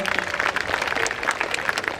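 Audience clapping at a children's cultural evening, a dense, steady patter of many hands that runs unbroken from start to end at moderate loudness.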